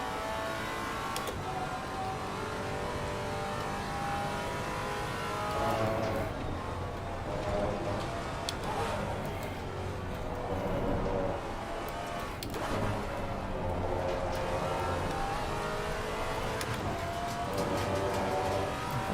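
A Maserati race car in a VR racing simulator at Silverstone drives with a steady, continuous engine drone held high near the rev limiter, with brief dips and swells at gear changes and no talk.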